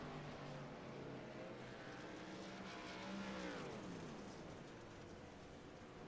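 Race cars lap a track in the Knoxville Showdown racing video game: a steady, faint engine drone with one car's rising and falling pitch sweeping past midway.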